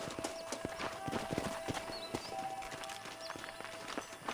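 Hoofbeats of several horses clip-clop at a trot in the Western video game Red Dead Redemption, steady overlapping thuds up close with a brief whinny and faint ambient outdoor noise.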